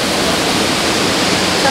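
Steady, loud rushing roar of a waterfall at Devil's Kettle in Judge C. R. Magney State Park on Minnesota's North Shore, a continuous wash of falling water with no other sounds standing out.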